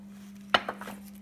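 A ceramic dessert plate set being handled, with one sharp clink of plate against plate followed by a few softer knocks, close and alone over a steady low hum.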